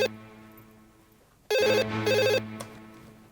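An old telephone rings loudly and close by in two electronic bursts, following a fading earlier ring, with quiet room tone between the rings.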